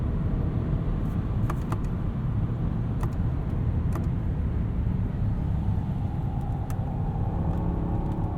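A 2021 Mercedes-Benz S580 4MATIC on winter tires accelerating up a highway entrance ramp in Sport Plus mode, heard from inside the cabin as a steady low engine and road rumble with a few faint clicks.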